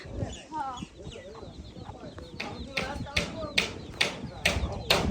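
Several sharp, repeated bird calls from nearby poultry, likely ducks, sounding in bursts over a busy outdoor background with people talking.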